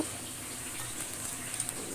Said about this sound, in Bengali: এটাকে আমি এখন ট্যাপটা ছেড়ে সেটা নিজে একটু ধুয়ে নিব।